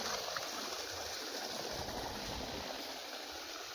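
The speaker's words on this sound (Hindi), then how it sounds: "देखो मोटर का पानी देखो भाई, कितना देखो स्पीड देखो, प्रेशर देखो कितना के पानी निकाल दिया मोटर।" Water gushes at high pressure from the 4-inch pipe of an Oswal 5 hp solar pump on a farm, a loud, constant rushing roar with no break.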